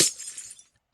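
A block being mined breaks apart in the Minecraft video game, giving a sharp crumbling burst that fades within about half a second, followed by a faint tick.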